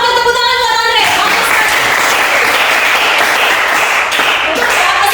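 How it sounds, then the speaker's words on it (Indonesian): Students in a vocational school classroom break into loud, dense applause right after a short voiced sound, the clapping continuing steadily to the end. "tepuk tangan buat Andre"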